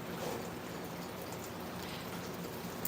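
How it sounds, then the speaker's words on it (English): Steady rain falling on a rainy day in Kingston, a dense even hiss that holds at a constant level throughout, with no voices. "It's a rainy day in Kingston City."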